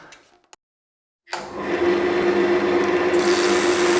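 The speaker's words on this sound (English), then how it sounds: "So we're using the speed of the rotating item to drive the sanding head" Chestnut wood turning on a lathe while 180 grit abrasive is pressed against it, a steady, close, loud rushing scrape with a constant hum after a brief silence.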